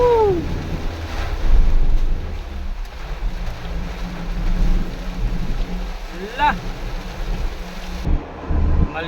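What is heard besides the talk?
heavy rain while driving on Skyway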